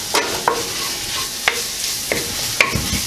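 Pork sausage and gnocchi sizzle steadily in a pan while a utensil stirs and scrapes through them in several distinct strokes, close up and with no talk.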